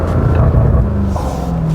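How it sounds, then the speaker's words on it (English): A 2023 BMW M car with a 617 hp V8 engine in Sport Plus mode, giving a loud, close, deep rumble with a slight rise in pitch. "All BMW V8s sound pretty well, especially if they're an M car."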